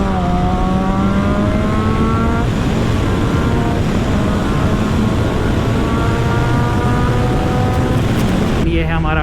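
Motorcycle engine accelerating on a highway during a long solo ride, a steady loud drone with rising engine tones and strong wind rush, a voice talking over it throughout.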